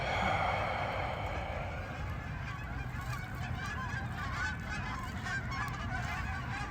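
Steady honking from a large flock of geese, overlapping calls carrying on without pause, with a soft breathy sound at the start.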